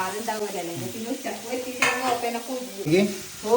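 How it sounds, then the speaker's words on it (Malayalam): Onions fry in hot coconut oil in a pan on the stove, a steady close sizzle broken by stirring scrapes, with a voice running over it. "ഇതാ ചട്ടി അടുപ്പത്ത് വെച്ച് വെളിച്ചെണ്ണ ഒഴിച്ച് ചൂടാക്കിയിട്ടുണ്ട്"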